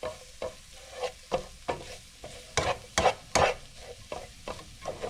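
Flour cooking in a frying pan with fat for a shepherd's pie filling, heard as repeated scraping stirs of a utensil against the pan over a quiet low sizzle, roughly a dozen irregular strokes close by.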